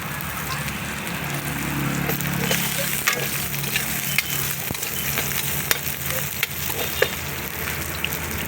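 Onion, garlic and red ginger sizzle steadily in a pan for frog tinola, a continuous close frying hiss with occasional stirring clinks, no talking.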